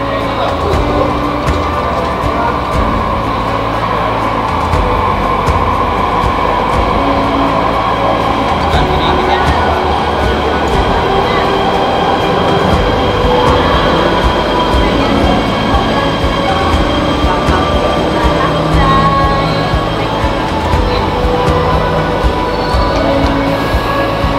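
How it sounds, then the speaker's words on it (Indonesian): A Jakarta MRT Ratangga train pulls into the station with a sustained loud rumble and rail noise, joined by a high whine and light clatter, while faint voices carry through the platform space. "Ini keretanya datang."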